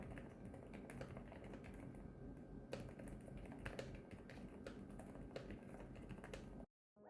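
Soft, rapid typing on a NuPhy Node 100 low-profile keyboard clicks away steadily and fairly close, muted and low-key, stopping abruptly near the end.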